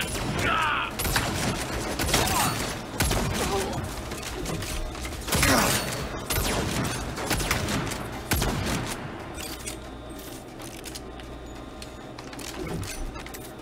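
Rapid bursts of gunfire in the video game Saints Row, layered with mechanical clatter in a dense, loud, continuous stretch of game action and shooting.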